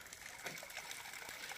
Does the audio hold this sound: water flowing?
yes